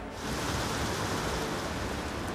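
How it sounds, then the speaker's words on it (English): Steady rain hisses down on an outdoor archaeological dig at the site of an 18th-century pottery factory, a broad, even wash of sound that fades in and then holds. "But even the rain isn't going to stop us now."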